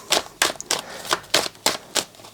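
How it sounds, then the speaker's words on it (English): Tarot cards being shuffled in quick riffling bursts, about eight short crisp flicks in an even rhythm, close and fairly loud with no talk. "Shuffle those a little bit more."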